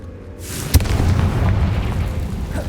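The Confringo fire curse in Hogwarts Legacy bursts with a loud, deep boom after a whooshing cast, then a rumbling, crackling tail that sustains steadily to the end.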